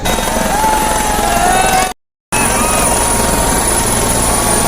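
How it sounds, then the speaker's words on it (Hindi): A helicopter roars loud and close, with a steady rotor and engine drone at an election rally in Jharkhand, cut by one brief gap of silence. "हेलीकॉप्टर में इमरान प्रतापगढ़ी जी है"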